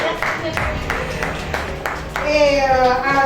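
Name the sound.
audience applause for contest candidates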